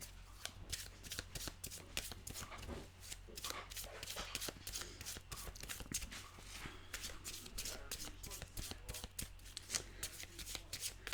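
Oracle cards being shuffled by hand to draw an animal card, a steady run of crisp papery riffles and slaps lasting throughout, close and fairly quiet with a low hum underneath.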